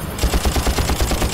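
Rapid bursts of gunfire in the video game Far Cry, a steady run of sharp repeated shots with a punchy low thump, loud and close.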